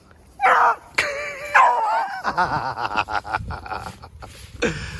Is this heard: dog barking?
yes